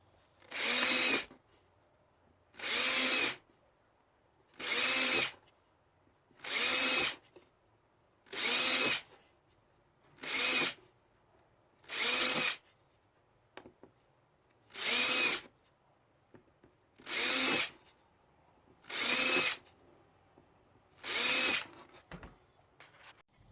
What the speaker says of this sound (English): once you have all your holes drilled